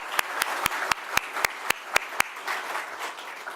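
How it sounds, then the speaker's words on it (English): Audience applause in a room in Buffalo, New York, for Governor Kathy Hochul at a housing announcement, a steady clapping wash with sharp individual claps standing out near the microphone over about three seconds. "Join me in giving her a round of applause."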